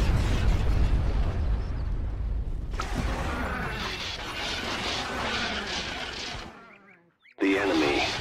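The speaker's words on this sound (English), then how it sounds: "Bombardment incoming." Orbital bombardment in Star Wars Empire at War: Forces of Corruption, a dense, continuous roar of heavy explosions and rumbling blasts lasting several seconds, dropping away briefly before another loud burst returns.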